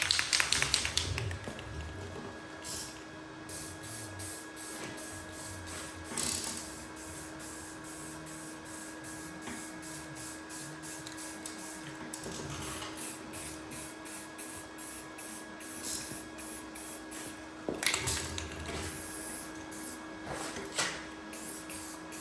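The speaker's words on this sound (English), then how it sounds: "I'm gonna throw some black spray paint on this" Short hissing bursts of a black aerosol spray paint can, repeated on and off with pauses between, over a steady background hum.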